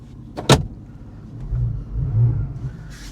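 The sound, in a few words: Porsche 911 Carrera S 991 coupe engine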